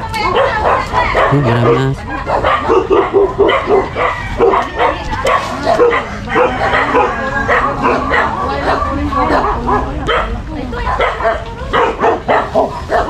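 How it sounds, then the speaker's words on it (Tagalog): Several dogs bark and yip repeatedly on a small farm where chickens are also kept, the barking close and continuous, with people talking over it throughout. "Yan, maraming aso guys."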